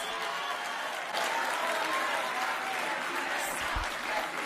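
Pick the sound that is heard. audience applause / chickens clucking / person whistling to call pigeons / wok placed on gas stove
audience applause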